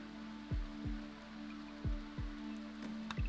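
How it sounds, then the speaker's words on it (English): Rain in the video game Rimworld, a soft steady patter over a low hum, with several dull low thumps spaced irregularly through it. "He is being rained on"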